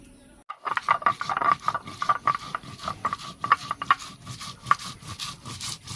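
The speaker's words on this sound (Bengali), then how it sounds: "প্রথমে আমি বেটে নেব জিরে আর ধনে।" Whole cumin and coriander seeds are ground by hand on a stone slab. Rhythmic scraping and rubbing strokes repeat steadily at close range with no talk.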